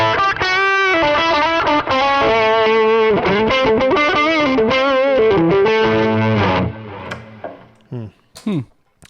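Electric guitar played through a Bat Sim pedal driving a King of Kings overdrive, a Tube Screamer-style drive, giving a loud, thick distorted tone with sustained chords and riffs for about seven seconds, then a few quieter stray notes and string noises.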